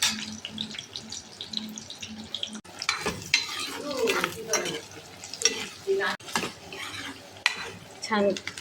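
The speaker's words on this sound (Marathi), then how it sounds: "छान कांदा परतून घ्यायचा, थोडासा होऊ द्यायचा।" Onion sautéing with cardamom, cinnamon and cloves in a pan, stirred with a spoon: a soft sizzle under irregular scraping and clinking against the metal, the strokes coming in uneven bursts.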